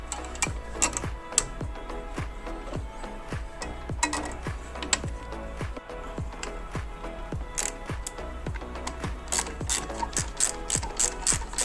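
A hand ratchet tightens bolts on a Bosch ABS brake unit during refitting, giving rapid, close, steady clicking in repeated bursts with brief pauses, loud and alone with no talking.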